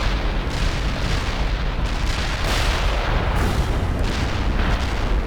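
Artillery barrage in World in Conflict: dense, continuous rumbling booms and blasts roll over one another at high volume, a sustained wall of explosions with no pauses and no voices.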